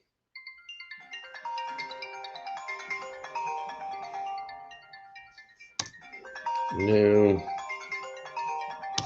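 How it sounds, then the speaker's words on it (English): An incoming phone call rings through a speaker as a repeating melodic ringtone with layered chiming tones, sounding steadily near and loud, while a brief spoken remark and a buzzy tone occur partway through. "I got a phone call coming in."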